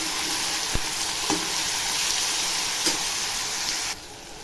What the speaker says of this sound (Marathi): टॅमॅटो टाकल्यावर बटाटा पण टाकते बघा, आणि छान याला फ्राय करून घेते।